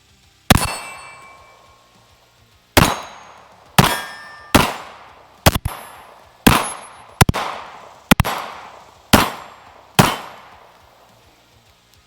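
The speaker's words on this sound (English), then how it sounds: "we're just going to plink a couple steels and see what happens here" Ten pistol shots ringing off steel targets outdoors, each a sharp crack with a clanging metallic ping and decaying tail, spaced irregularly about a second apart.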